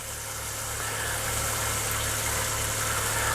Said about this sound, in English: we've just been idling the engine for a little bit